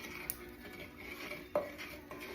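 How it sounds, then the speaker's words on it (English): A spoon scrapes and taps against a pot while roux browns for pot roast gravy, soft stirring strokes with a few metallic clinks, quiet and close, no voices. "the longer you cook the roux, the browner it'll get"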